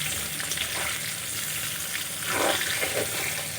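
Plantain and potato pieces frying in oil in a pan, a continuous close crackling sizzle with occasional stirring scrapes, steady throughout with no voices.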